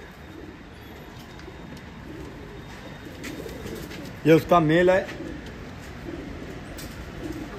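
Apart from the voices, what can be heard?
highflyer pigeons cooing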